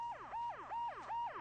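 A police car siren wails in a repeating rise-and-fall pattern, about four cycles in quick succession, fairly faint and heard without talk.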